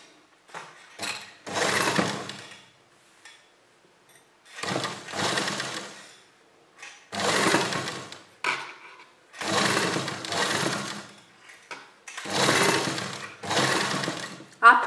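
A sewing machine stitches along the pleats of a garment neckline in five or six separate runs of rapid whirring, each a second or two long with short pauses between, while someone talks.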